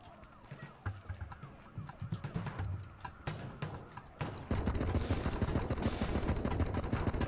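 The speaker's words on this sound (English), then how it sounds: "Now I have a machine gun." Machine gun fire in the Ape Out video game, first as choppy rapid bursts of shots, then as a louder, denser continuous stream of gunfire.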